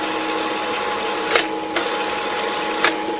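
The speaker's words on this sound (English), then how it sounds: "the next thing is to stitch up the middle" A sewing machine stitches the middle of a small puppet's wool wig, running as a continuous close whir with a few brief louder clicks.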